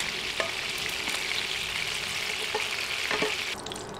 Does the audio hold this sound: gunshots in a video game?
no